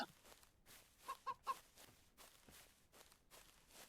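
Chickens clucking in the video game Kingdom of Atham: Crown of the Champions, short clucks bunched near the middle among soft footstep-like taps, fairly quiet with no talk.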